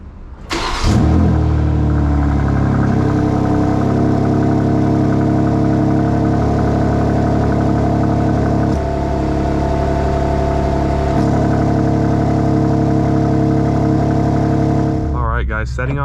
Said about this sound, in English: that startup, the M2, at least in person, I don't know if it'll come out on camera, the M2 is definitely louder